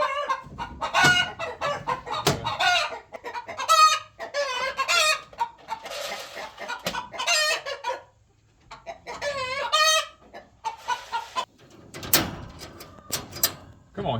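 Hens cluck and squawk repeatedly at close range, busy and irregular, with a person speaking at moments amid the noise.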